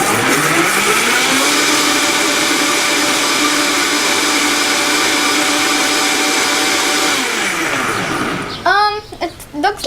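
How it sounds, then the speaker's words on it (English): Blender whirring loudly as it blends fresh aloe vera for juice, a steady motor drone that slows and stops near the end, followed by brief talking. "It looks like it already blended up a lot of the aloe vera."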